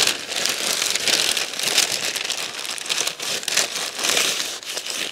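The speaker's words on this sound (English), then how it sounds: "So we'll continue to pack this full of paper." Sheets of packing paper are crumpled and pressed into a box around a flat-screen TV as cushioning, a close, continuous crinkling and rustling that runs for several seconds with no talking.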